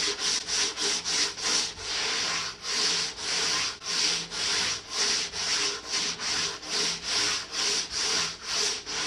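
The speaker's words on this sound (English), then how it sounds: "I'm going to start block sanding this, just using 80 grit." A sanding block with 80 grit sandpaper scrapes across a Lincoln lowrider's car body panel in steady back-and-forth strokes, about two per second, loud and close with no talking.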